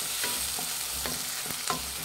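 Onion, tomato and capsicum fry in oil in a pan for egg bhurji, with a soft continuous sizzle punctuated by several scraping stirs of the spatula, heard close and alone.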